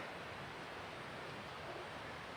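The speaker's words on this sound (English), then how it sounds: "Nice sound of the water all night" Steady broadband rush of a stream flowing a couple hundred feet from a campsite on the Pacific Crest Trail, constant and fairly soft, with no voices or other distinct sounds.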